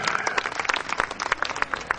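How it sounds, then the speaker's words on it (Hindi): Audience claps to welcome the chief guest at a yoga and diet talk, a short stretch of dense, even clapping from a gathered group, fairly loud and without speech. "उनका स्वागत है तालियों से।"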